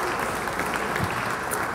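A festival audience claps at a percussion festival opening, a dense, continuous round of applause filling the space at full volume.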